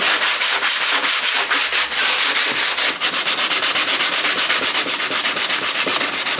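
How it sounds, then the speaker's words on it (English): Hand sanding of car bodywork with 120 grit sandpaper on a 2010 Citroen Berlingo XTR, a steady loud continuous scrubbing rasp with rapid back-and-forth strokes, heard alone close up. "I've done the sanding with the 80, 120 and 320"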